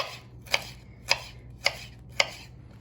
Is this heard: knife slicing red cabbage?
yes